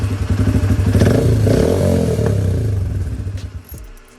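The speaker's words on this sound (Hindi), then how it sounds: "बाइक को कर दिया बंद" A Kawasaki Ninja motorcycle idles loud and close with a rough, throbbing engine note, rising briefly, then the engine is switched off and the sound dies away near the end, followed by a faint clatter.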